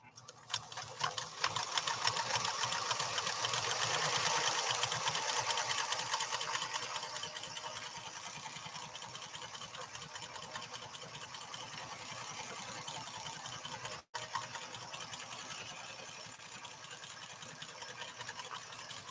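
PFAFF 360 sewing machine running stitch number 10 after its cam stack was turned, a fast, steady, close mechanical whir of rapid needle strokes that continues nearly unbroken apart from one brief pause.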